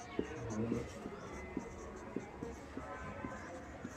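Chalk taps and scratches on a classroom board in short, irregular strokes, faint and close, with a teacher's voice murmuring through the writing.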